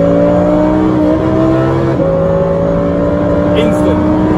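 A twin-turbo Lamborghini Huracan engine roars loudly and steadily under hard acceleration, its pitch climbing and then resetting as it shifts gear.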